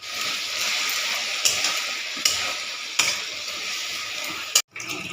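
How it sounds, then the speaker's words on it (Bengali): Methi (fenugreek) greens fry in a hot pan with salt and turmeric, a steady close sizzle punctuated by a few sharp spatula scrapes and knocks, ending with a brief cutoff and no speech. "শাকটা ভালোভাবে ভেজে নিচ্ছি"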